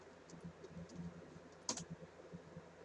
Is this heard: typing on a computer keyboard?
yes